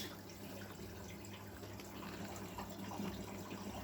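A Miele W916 washing machine with synthetic rubber hoses fills with water on a 95-degree cotton cycle with Water Plus, giving a steady, faint rushing hiss against a low hum, with no talking.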